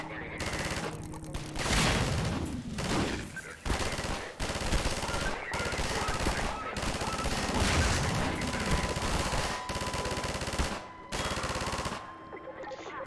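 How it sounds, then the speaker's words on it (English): Rapid turret gunfire in the Half-Life 2 sewer level "Route Kanal", loud sustained bursts of automatic shots with brief pauses between volleys, mixed with game effects. "So now it's our turn to use the turret against these guys."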